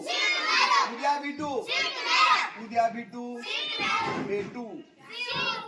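Primary school children at a village school in Beed district shout and call out together in loud overlapping bursts, a lively crowd of young voices close by.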